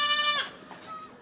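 Baby goats bleat at a goat farm, with kids around two to three months old giving a loud, close, quavering cry that fades into quieter calls and a brief second bleat near the end.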